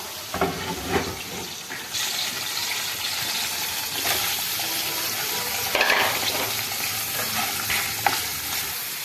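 An egg fries in an old frying pan on a home stove, giving a steady loud sizzle with scraping and stirring clatters on top, no talking.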